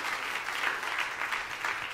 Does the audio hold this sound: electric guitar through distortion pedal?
no